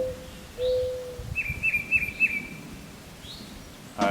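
Birds chirp and whistle outdoors beside a John Deere 5085M tractor, with a long whistled note early and a run of repeated bright chirps in the middle, moderately close over a low background rumble.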